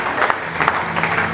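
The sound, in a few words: congregation applauding the word of God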